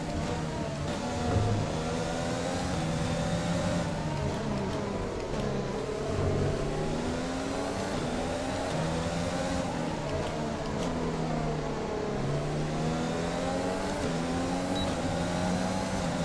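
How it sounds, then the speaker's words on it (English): A Formula 1 car engine in the video game F1 2020, racing at Zandvoort, drones steadily throughout, its pitch rising and falling in repeated revving sweeps, loud and continuous with no talking. "Listen to that engine purr."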